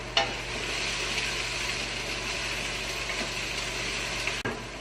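Garlic and thyme dropped into a pan of sautéing translucent onions for roasted cauliflower soup, giving a continuous close sizzle with faint stirring scrapes and no speech.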